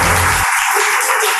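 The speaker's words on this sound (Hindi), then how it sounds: "जोरदार ताली होनी चाहिए।" An audience at a children's KBC-style general knowledge quiz show applauds a young contestant with loud, dense, steady clapping that fills the whole moment, while a low voice drops out just after the start.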